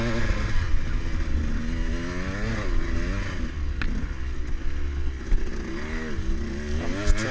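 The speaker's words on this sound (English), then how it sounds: "Trying my best to keep that bike upright." Dirt bike engine droning and revving steadily during a hare scramble race on a rutted, slick woodland course, loud and close throughout with rising and falling pitch as the rider fights for traction.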